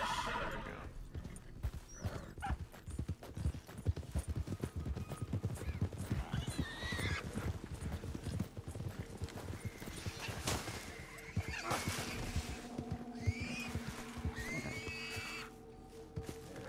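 Horse hooves clip-clopping in a steady rhythm with repeated neighs and whinnies in the Red Dead Online video game, set against ambient game sounds.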